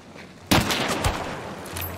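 Gunfire erupts in a video game, a sudden loud burst of rapid shots followed by continued crackling fire and a second sharp report, ringing on without speech.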